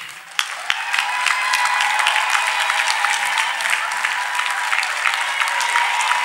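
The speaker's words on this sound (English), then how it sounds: "Let us clap for Master Jesus." A congregation at a church service claps together in dense, sustained applause that starts sharply and holds steady and loud, with a faint voice underneath.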